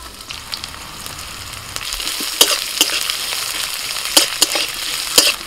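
Chopped onion with black cumin frying in oil in a pan, a continuous close hiss of sizzling under occasional crisp spatula clicks and scrapes that grow more frequent toward the end.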